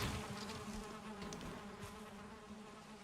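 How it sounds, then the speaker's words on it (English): Buzzing insect, a bee in the survival game Valheim, droning steadily and fairly close for about three seconds with no speech. "Or, it's not even that, it's a bee."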